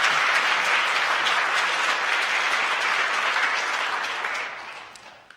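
Welcoming applause from a church congregation during a Sunday service, as new members stand to be greeted; steady, dense clapping fills the room alone and then begins to fade toward the end.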